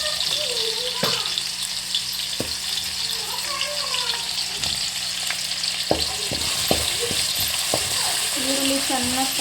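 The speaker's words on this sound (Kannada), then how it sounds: "ಈರುಳ್ಳಿ ಚೆನ್ನಾಗಿ ಫ್ರೈ ಮಾಡ್ಕೋಬೇಕು. ಫ್ರೈ ಆಗಬೇಕು ಈರುಳ್ಳಿದು." Onions fry in hot oil in a home kitchen with a constant close sizzle, broken by sharp taps and scrapes of a spoon against the pan.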